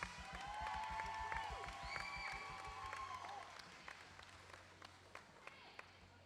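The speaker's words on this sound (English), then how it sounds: "Let's give a round of applause for our seniors." A crowd at a junior roller derby playoff in Pittsburgh claps and cheers in a large hall, a faint, distant swell of applause with whoops and whistles that thins into scattered claps.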